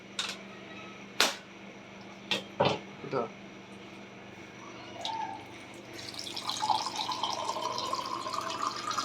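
During a home Vinayagar Chathurthi puja, water pours into a vessel. A few sharp taps and drips come first, then a rising, steady gurgle as the vessel fills, close and moderately loud.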